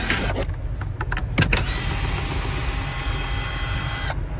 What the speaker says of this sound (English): just one 10mm socket to remove the two 10mm bolts